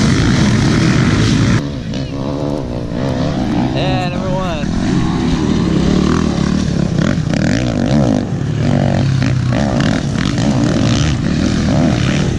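Dirt bike racing past at a harescramble at Prairie City, its engine droning loud and steady with a rising whine midway, while people talk close by over the motor noise.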